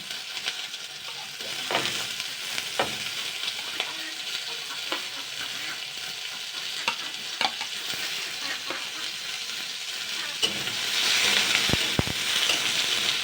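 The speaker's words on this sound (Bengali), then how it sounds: "আলুটা আগে মানে 2 মিনিট মতন 3 মিনিট মতন হালকা একটু ফ্রাই করে নেব" Potatoes frying in oil with cumin and dried chilli for a leafy greens dish, a steady close sizzle with occasional stirring scrapes, growing louder and brighter near the end, no talking.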